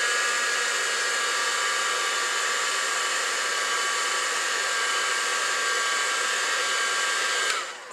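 A hair dryer or heat tool blows steadily to dry paint on a stamped crafting project, a loud, even whoosh running alone for about seven seconds before it cuts off.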